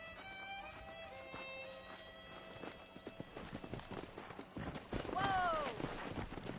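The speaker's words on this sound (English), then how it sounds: "That ranch hand said there's a pack of wild horses nearby." Wild horses galloping in Red Dead Redemption on PS5, rapid clip-clop hoofbeats with a sharp whinny near the end, heard under game dialogue and background talk at a modest level.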